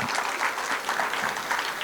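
Audience at a Hindi kavi sammelan (poetry recital) applauding, a steady wash of many hands clapping at even loudness throughout, with no voices rising above it.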